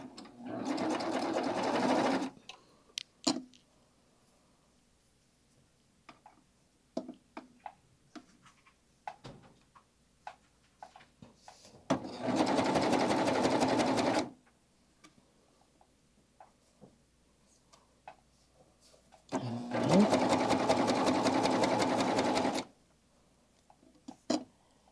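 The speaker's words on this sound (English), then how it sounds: "and then we'll just start to sew" A sewing machine stitches fabric in three separate bursts of steady whirring, each lasting a few seconds. Between them come quiet pauses with small clicks and handling noises.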